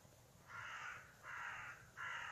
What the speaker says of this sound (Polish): O, o, słyszycie? To młoda wrona.